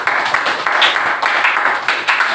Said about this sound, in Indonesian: Tepuk tangan buat Azul.